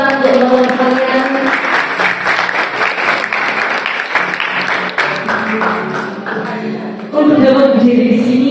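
Students at a vocational school culinary practical exam event clap for their classmates, a steady burst of applause over sustained music and murmuring voices, which swells again near the end.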